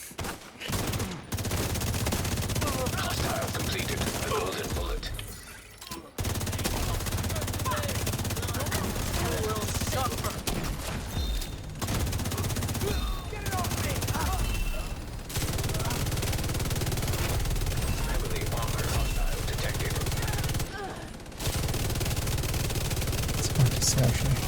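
Sustained bursts of MG5 machine gun fire in a shooter game, loud and continuous with short pauses between volleys, under a player's commentary.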